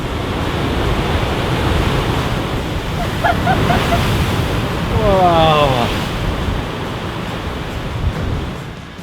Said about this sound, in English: we climbed over a few more rocks to admire the big waves crashing into the island.